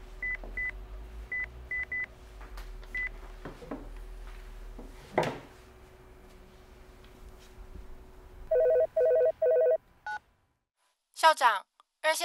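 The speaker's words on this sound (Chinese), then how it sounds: "校长，二线刘松恒、列伟来电。" A telephone in a school principal's office signals an incoming call, with repeated short electronic ring bursts and a few beeps over a quiet room, ending in a louder chirping tone.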